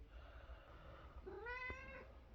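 A single drawn-out cat meow rises and falls near the microphone, over faint background noise.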